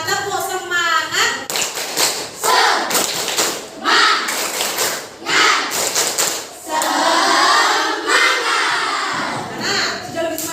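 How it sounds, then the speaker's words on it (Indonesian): Children in a primary school classroom perform the rhythmic 'tepuk semangat' cheer, sharp group claps landing in quick patterned bursts, mixed with their chanting voices and a teacher leading along. "Yuk kita sama-sama tepuk semangat, tepuk semangat"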